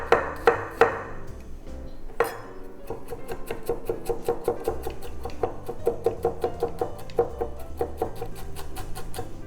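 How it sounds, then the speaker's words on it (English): A knife finely minces blanched garlic cloves on a cutting board, a few heavy opening chops followed by a rapid, even run of crisp close taps with no talk. "we're gonna take our 2 garlic cloves that we blanched and just finely mince them"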